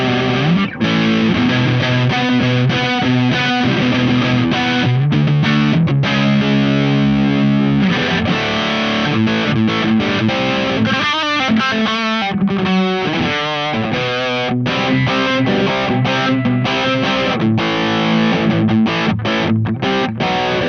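An electric guitar, a Sire with humbuckers, plays through an MXR Power 50 overdrive pedal, loud and heavily distorted, with sustained chords and busy riffing running continuously and close with no talk.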